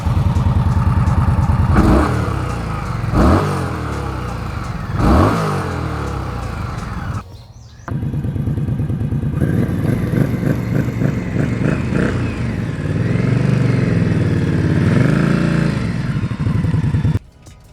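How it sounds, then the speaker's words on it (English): A 2018 Indian Scout motorcycle engine revs hard in several sharp bursts through its exhaust, then settles into a loud, steady rumble with rising and falling throttle. "let me give you guys a little taste of what this exhaust sounds like"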